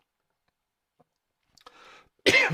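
A single sudden cough bursts out close and loud at the end, after a stretch of near silence broken by faint rustling and a small click.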